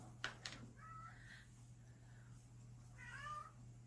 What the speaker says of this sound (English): my cat is outside whining at me